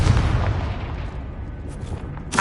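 The Confringo spell in Hogwarts Legacy detonates with a dull, booming burst and rumbling tail, then a sharp crackle right at the end.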